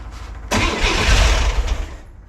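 A 1963 Chevrolet Corvair engine cranks and catches in a sudden burst, then runs roughly and loudly for a moment close by before easing down.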